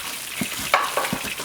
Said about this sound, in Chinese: 煎个几分钟就可以了